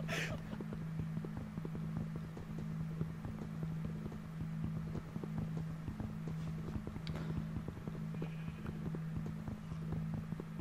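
Horse hooves clip-clop in a Minecraft game world, a steady rapid stream of light clopping over a constant low hum of background music, continuous throughout with no talk.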